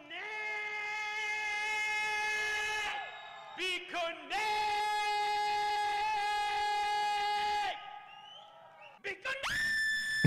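A high-pitched scream from a played video, long sustained harmonic wails with brief gaps, ending in a sharp rising shriek at the close; loud and continuous.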